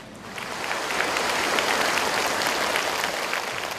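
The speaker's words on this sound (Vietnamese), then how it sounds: "Let's give a joyous big hand to welcome musician Trần Quang Lộc" Warm audience applause at a book launch event welcoming musician Trần Quang Lộc, swelling quickly into steady, dense clapping that holds throughout with no speech.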